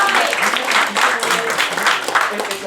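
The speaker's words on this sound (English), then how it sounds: "applause for Mike" Audience applause for a guest at a campus talk, loud close clapping from a small crowd forming a dense, steady patter with possible voices mixed in.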